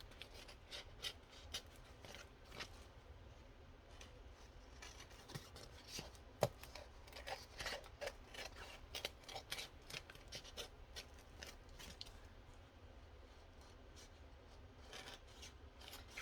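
Paper card pieces are trimmed with scissors for a handmade journal, soft repeated snips and rustles at an uneven rhythm, close and faint.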